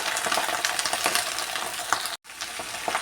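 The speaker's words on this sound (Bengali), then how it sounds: "হলুদ আর চারটে কাঁচা লঙ্কা শাকটা একটু আমি নেড়ে ছেড়ে দেবো" Leafy greens with turmeric and green chillies sizzle in a pan while being stirred, a close continuous frying hiss with light scraping and a brief silent break near the end.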